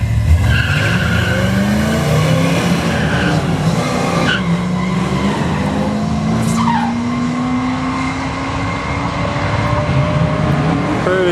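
Two street-legal drag race cars launch at a Friday night drag strip, a loud sustained engine roar with tire squeal and rising pitch as they pull away, crowd noise underneath.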